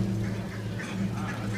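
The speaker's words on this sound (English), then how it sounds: "the march of the world-famous Peabody Ducks" The Peabody Hotel ducks quack in a hotel lobby during their march, a dense run of close quacking over a low crowd murmur.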